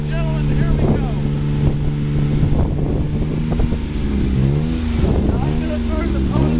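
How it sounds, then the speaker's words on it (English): The pony motor on a 1999 GMC C7500 dump truck runs to raise the dump bed, a loud, steady engine drone with shifting pitch. Someone talks over it nearby. "I'm gonna raise the dump bed over for you here in just a second."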